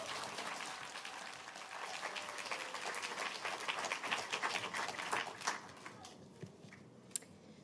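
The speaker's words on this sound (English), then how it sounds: "But please give them both a huge round of applause." Audience at a children's books awards ceremony in Dublin applauds two winners, fairly soft, distant clapping spread through the room, thinning into scattered claps toward the end.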